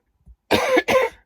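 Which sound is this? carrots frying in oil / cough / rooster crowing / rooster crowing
cough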